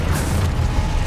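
A Confringo fire-blast spell from Hogwarts Legacy goes off as a dense, rumbling low boom that sustains evenly across the whole moment, with a brief brighter crackle near the start and no talk.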